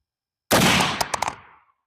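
A single loud, close gunshot from a 400 Legend straight-wall cartridge fired from an AR-platform rifle, a sharp broadband blast with a short decaying tail and a few quick rattling echoes afterward.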